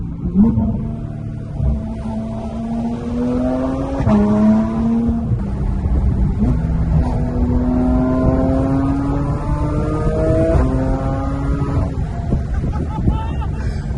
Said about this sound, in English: This exhaust is just absolutely immaculate, man.